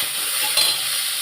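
Onions sautéing in a pan with dried red chillies and fennel seeds, a steady soft sizzle throughout with a brief clink of a utensil near the middle.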